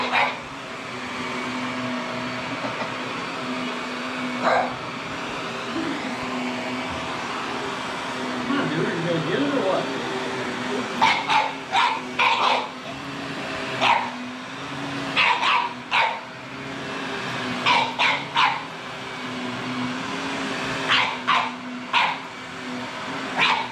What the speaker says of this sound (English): What a vicious dog you are. Very vicious dog.